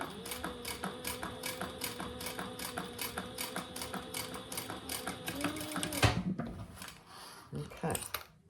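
A sewing machine runs steadily, top stitching around an eyeglass case and closing the turning hole, with a rapid even needle rhythm up close for about six seconds before it stops and handling noises follow.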